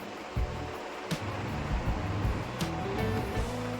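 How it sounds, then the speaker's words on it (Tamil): Onions sauté in hot oil in a pan, giving a steady close sizzle and hiss with a few clanks and scrapes of stirring against the pan. "ஒரு பேனில் எண்ணெய் காஞ்சதும் இந்த மாதிரி வெங்காயத்தை நல்லா போட்டு கலர் சேஞ்ச் ஆகிற அளவுக்கு நல்லா வந்து வதக்கிக்கோங்க."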